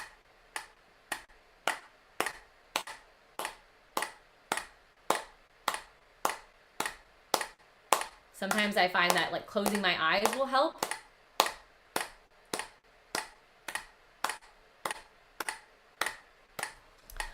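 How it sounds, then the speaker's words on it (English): Hands clap along with a steady metronome beat, producing sharp, evenly spaced clicks throughout while a voice briefly talks over the rhythm midway. "go ahead and clap along with me when you get a sense of the beat"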